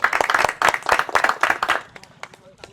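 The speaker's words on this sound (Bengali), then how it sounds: "তাহলে আমরা সুন্দর একটা করতালি দিই সবাই মিলে একটা।" A group clapping together at an outdoor village game event, a burst of brisk close applause that thins out to a few scattered claps.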